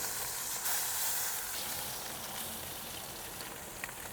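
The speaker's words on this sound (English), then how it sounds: "we're getting a great sear on this" Beef short ribs sear in a hot Dutch oven for smoky birria, a steady broadband sizzle with a crackling hiss throughout, fairly loud and close, with a brief louder burst near the start.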